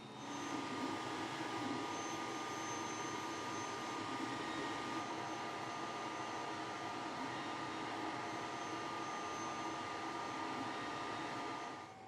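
A LaserPecker LX2 laser engraver burns a calibration pattern into wood, giving a steady whirring fan-like hum that runs evenly and unbroken, then stops abruptly at the end.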